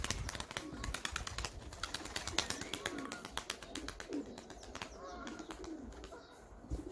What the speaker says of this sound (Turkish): Bu da bizim dişi gökümüz